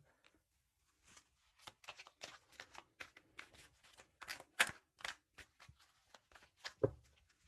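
Oracle cards are shuffled in a quiet room, with a run of soft, crisp riffles and slaps that come in irregular bursts. The sound is close and faint, and no one talks over it.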